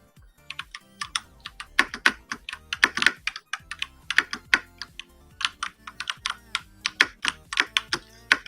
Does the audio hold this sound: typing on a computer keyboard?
yes